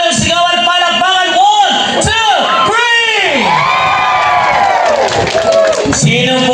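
A crowd at a birthday celebration cheers, whoops and shouts loudly and continuously, with rising and falling yells layered over a dense wall of voices.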